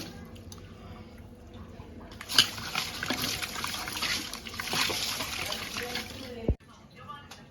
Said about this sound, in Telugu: ఇట్లా క్లీన్గా ఒక త్రీ ఫోర్ టైమ్స్ తీసి కడిగి పెట్టుకోవాలి